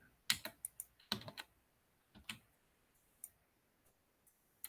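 Fast keystrokes on a computer keyboard come in two quick bursts, then scattered single taps and clicks spread across a quiet room, with no voices.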